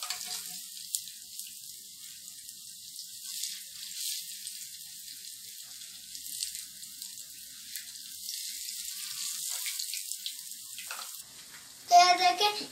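Dahi bhalla lentil fritters fry in hot oil, giving a continuous bright sizzle with crackling pops that swells and fades, close and fairly loud, ending with a brief clatter.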